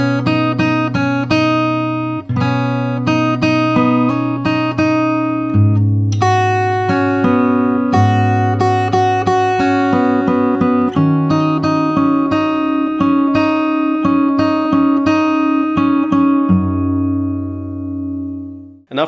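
Fingerstyle acoustic guitar plays a song solo, a continuous flowing pattern of plucked melody and bass notes, close and bright, with ringing strings that let the final chord decay.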